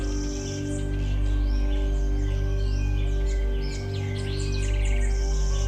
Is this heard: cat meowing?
no